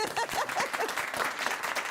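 A live studio audience claps steadily and fairly softly for about two seconds, a dense patter of hands with no voices standing out.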